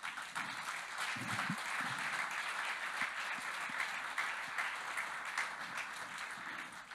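An audience applauds at a church gathering, dense sustained clapping that stays steady and fairly distant throughout, with no voices rising above it.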